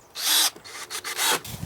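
A power drill drives screws to join two wooden pallets, whirring in two strong bursts with short stops and restarts between, close and loud with no talk.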